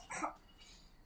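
A single short, faint cough near the start, then quiet room background.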